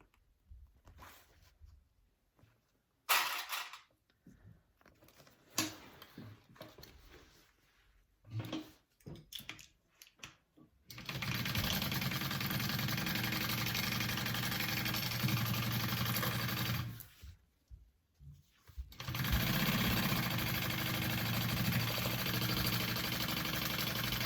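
Sewing machine stitching a 3/8-inch seam on a bucket bag, starting with scattered handling clicks and short bursts, then long steady whirring runs of stitching with a brief pause between them.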